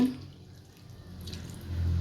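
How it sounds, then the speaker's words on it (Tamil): A faint, close splash and trickle of a small amount of water, under 50 ml, being poured into chicken curry, soft and brief in a quiet setting. "இப்போ இதில் கொஞ்சமாக தண்ணி சேர்த்துக்கலாம் சிக்கன் வேகிற அளவுக்கு"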